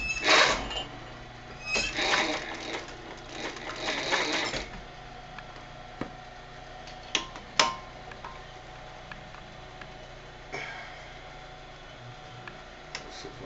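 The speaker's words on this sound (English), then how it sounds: "Back stitch. I'm going to go across." A sewing machine back stitches across a garment lining, with a few short whirring runs of the needle near the start and then sparse ticks and clicks against a low hum.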